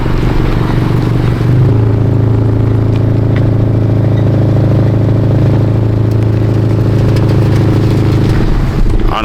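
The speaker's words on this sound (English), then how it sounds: "he's backing up. I didn't even tell him to back up." A car engine idles and hums low and steady close by, with a faint rattle over the drone as the vehicle creeps in reverse.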